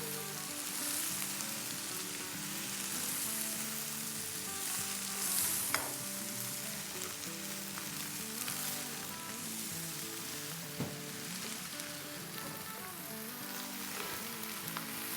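Okra (bhindi) frying in a pan for masaledar sabzi gives a steady, fairly quiet sizzle, punctuated by a few sharp clicks of a utensil as it is stirred and mixed.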